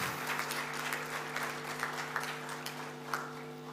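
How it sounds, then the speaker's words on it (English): An audience at an annual general body meeting's valedictory session, including architecture students, claps in a faint, distant round of applause over a steady electrical hum. "A great round of applause to all of you."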